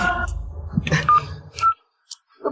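A telephone number is dialed as a quick series of short keypad tones, with soft rustling and brief pauses between presses.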